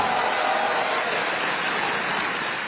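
Loud, sustained applause from a large audience for the Prime Minister at an event on India's UPI payment deal in France, an even wash of clapping throughout with no speech.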